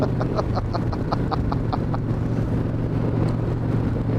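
A 1997 Harley-Davidson Wide Glide motorcycle in top gear pulls toward 60 with a steady, loud low engine drone, heavy wind rush buffeting close by and a brief rapid ticking pattern early on.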